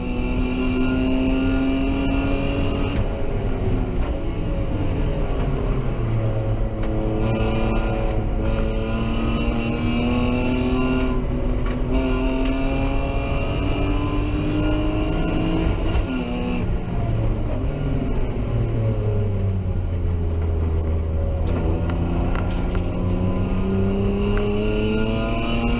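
Improved production race cars, including a BMW, lapping Hampton Downs circuit, with engines wailing loudly as they rise and fall through repeated gear changes, a continuous close-up roar.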